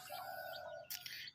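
A white-breasted waterhen (dahuk) calling close by, a short tonal whistling call followed by a brief noisy burst, heard alone and faint.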